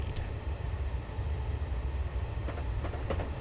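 Train in Train Simulator 2013 running on the London to Brighton line, a steady low rumble of wheels on track with faint clicks near the end, continuous and moderately close, with no talk.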